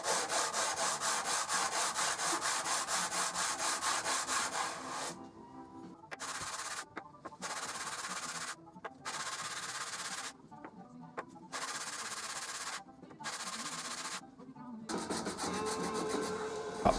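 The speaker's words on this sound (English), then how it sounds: "stuck down a piece of 120 grit sandpaper so I could sand down the top and bottom of each coaster by hand" Hardwood drinks coasters are rubbed by hand across 120 grit sandpaper stuck to a workbench, giving a continuous raspy scrubbing at first, then a series of short rhythmic sanding strokes separated by brief pauses, close and clear.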